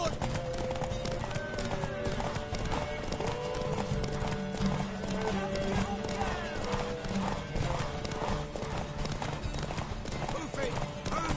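Steady galloping hoofbeats from a horse race in The Witcher video game, a continuous rapid clip-clop with occasional whinnies, set under music and voices.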